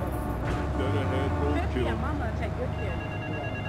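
A telephone rings in Grand Theft Auto III: a repeated ringing tone cuts through game background noise at moderate level, with someone talking over it.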